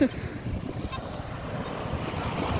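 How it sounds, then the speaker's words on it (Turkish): Rough sea waves crash and wash against a beach, a steady loud surf roar with heavy wind buffeting the microphone and no clear talking. "Dalga olmaya başladı."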